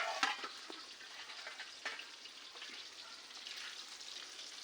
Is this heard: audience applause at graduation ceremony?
no